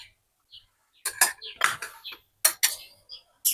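A spoon mixes peanut butter cookie dough in a bowl, with a series of close, sharp scraping and clinking bursts separated by brief silences.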